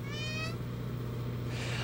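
One brief, nasal, meow-like peacock cry sounds at the start, then gives way to steady outdoor background noise and a low hum.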